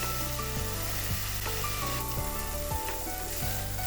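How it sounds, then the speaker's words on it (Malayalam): Ingredients for paneer butter masala roasting in a pan until light brown, giving a steady close sizzle and frying hiss with occasional light stirring, no voices. "ചെറിയൊരു ബ്രൗൺ നിറം വരുന്ന വരെ റോസ്റ്റ് ചെയ്താൽ മതി."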